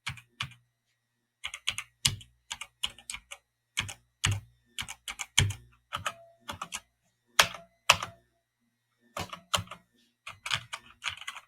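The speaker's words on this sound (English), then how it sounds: "So we'll just do a quick typing test." Typing on a budget gaming keyboard with springy, twangy keys: bursts of quick, crisp clacks with short pauses between, close and clear, no talking.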